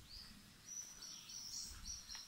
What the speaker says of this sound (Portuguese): Você só escuta praticamente só os passarinhos cantar.